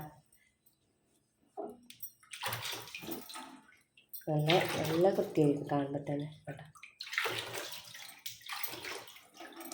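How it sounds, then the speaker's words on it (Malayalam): Water splashes and pours in bursts across a gas stove as it is rinsed, with someone speaking over the rinsing. "ഇനി നമുക്ക് വെറുതെ വെള്ളം ഒഴിച്ചൊന്ന് കഴുകിയാൽ മതി"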